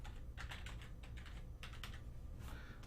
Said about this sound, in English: When you're typing on a new keyboard, it can be a little funky.